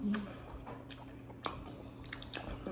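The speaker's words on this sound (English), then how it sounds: "It's the best gum to chew though." Double Bubble gum being chewed close to the mouth, soft wet smacking and squishing in an irregular rhythm, quiet against faint room noise.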